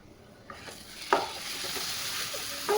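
Mashed ridge gourd cooking in oil in a pan, with a steady close sizzle and frying hiss throughout and a few clicks of a spoon stirring against the pan.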